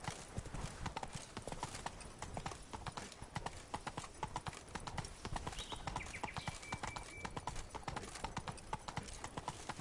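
Roach, a horse in The Witcher 3, trots along in a steady, continuous clip-clop of hooves, fairly close and prominent, with faint voices in the background.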